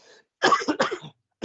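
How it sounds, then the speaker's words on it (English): A person with a sinus illness, held up on one leg, coughs in a short harsh burst of several quick coughs, then one more brief cough after a pause, close and fairly loud. "gosh, I feel horrible that I'm coughing"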